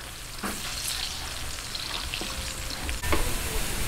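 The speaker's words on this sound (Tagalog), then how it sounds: "Hintayin lang po nating mag-light brown yung ating bawang" Garlic fries in a pan until light brown for a stir-fried kangkong dish, with a loud, dense sizzle, stirring scrapes and a sharp jump in intensity near the end.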